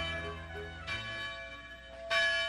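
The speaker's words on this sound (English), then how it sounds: "That's the alarm bell." Alarm bell rings in a castle dungeon setting of a 1988 comedy fairy tale, a few resonant clangs with long ringing decay, fairly quiet and alone with no talk.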